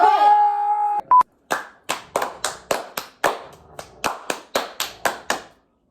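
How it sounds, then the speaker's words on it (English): Hand clapping in a steady series of sharp, close claps, about a dozen spaced evenly after a brief tone at the start, with no talking over them. "You do a double clap."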